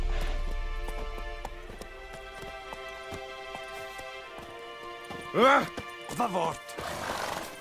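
Horse hooves and a whinny from a galloping horse in The Witcher 3, with clopping under game music and a loud neigh near the end, alongside a spoken voice.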